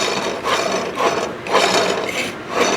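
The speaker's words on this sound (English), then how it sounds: "I'm gonna spin them to make sure they are spinning nice and straight" Hunting arrows spinning on an inexpensive arrow spinner give a steady, close mechanical rubbing and whirring with a faint ratchety texture, pulsing in repeated waves about every half second, with no talking.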